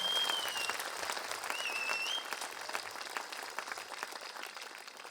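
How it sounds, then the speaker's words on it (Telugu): A seated audience at a public talk claps in a sustained burst of applause that fades gradually. No voices are heard over it. "గట్టిగా చప్పట్లు కొట్టండి"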